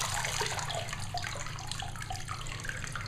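Water drains steadily out of a sink after repeated rinsing, a continuous gurgling, splashing rush heard close and fairly quiet with no talking.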